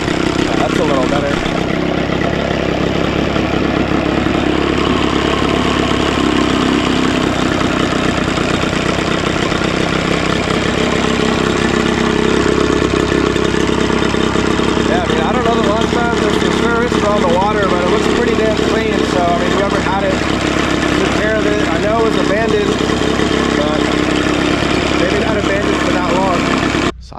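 Old Johnson or Evinrude outboard motor, abandoned at a marina, idling steadily and loudly with a slightly knocking, uneven beat while a person talks over it throughout.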